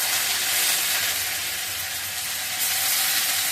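Lentils dropped into hot oil, with cumin already frying and soaked green chillies, give a steady, dense sizzle and crackle that stays even and fairly loud throughout, with no talking.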